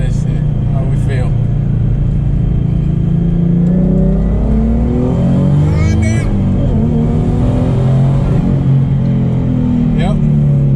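A twin-turbo V6 car accelerating and revving through gears, loud and close, with boost whooshes and a voice talking over the engine.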